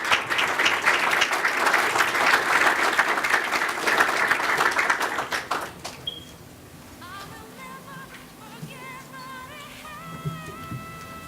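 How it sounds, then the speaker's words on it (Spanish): Audience at an architecture lecture applauds loudly and steadily for about six seconds, then the clapping fades out into quieter room noise with faint background tones. "por favor, con un aplauso."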